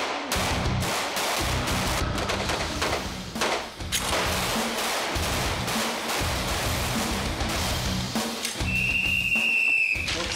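A referee's whistle gives one sharp, shrill blast near the end, signalling the start of a French police tactical drill amid a busy, noisy background of bangs and clatter.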